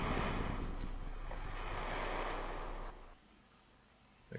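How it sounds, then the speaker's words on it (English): A spacecraft splashes down in the ocean in Kerbal Space Program: a loud, broad rush of water and wind that holds steady, then drops away abruptly to a faint hiss near the end. "And splash down."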